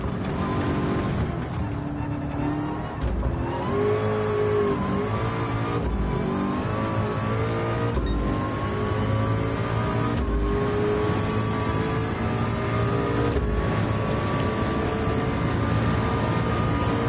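Race car engines roar and whine continuously at Le Mans in a VR racing game, with rising pitch and abrupt gear-shift breaks, and a McLaren follows close behind.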